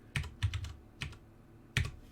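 A handful of separate keystrokes on a computer keyboard while a filament type is entered, quiet and close, with uneven pauses between the taps.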